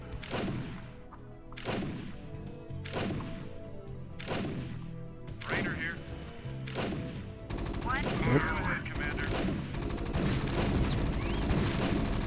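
Gunfire in the StarCraft video game: sharp shots crack out at a regular pace, about one every second or so, then give way to busier overlapping bursts and effects, with some faint voices alongside.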